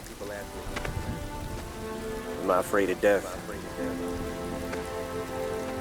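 Steady rain sound effect used in the Eminem song Temporary, a soft continuous patter running throughout beneath sustained musical tones, with a voice speaking briefly in the middle.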